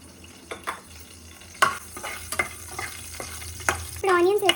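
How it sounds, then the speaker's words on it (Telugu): Dried red chillies, garlic and curry leaves frying in oil crackle and sizzle under repeated sharp scraping and stirring strokes of a spatula in the pan, with a brief squeal near the end. "ఫస్ట్ ఎండుమిరపకాయలు, గార్లిక్ ఇంకా కరివేపాకులు వేయించుకుంటాం"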